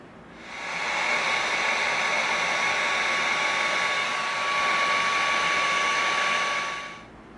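Heat gun blowing on small EVA foam circle pieces for a crossbow's metal side plates, a steady close airy roar with a thin whine that swells in, holds for about six seconds and cuts off.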